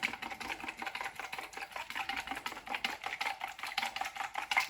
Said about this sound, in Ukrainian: Тепер все це розмішую.